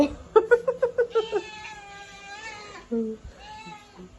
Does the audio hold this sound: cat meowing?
yes